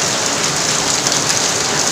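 Heavy morning rain falls in a dense, constant hiss with drops drumming on nearby surfaces, loud and unbroken with no voices.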